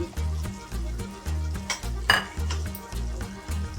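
Spices such as garam masala and coriander powder are stirred into okra masala curry in a pan, with rhythmic scraping over a low sizzle, a few sharp metallic clinks of a spoon against the pan, and no voices.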